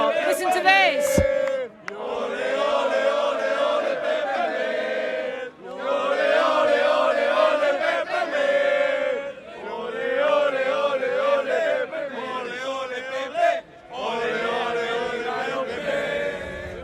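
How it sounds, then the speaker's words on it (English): Dulwich football supporters chant loudly in unison at a match despite their side trailing 3-0, the sung phrases rising and falling in repeated waves separated by brief pauses, with a sharp clap or bang near the start and cheering blended throughout. "Not from what's going on in the crowd here."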